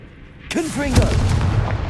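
A Confringo fire spell explodes in the Hogwarts Legacy video game: a sudden loud blast about halfway in, then a sustained crackling, rumbling roar, with a voice sounding over it.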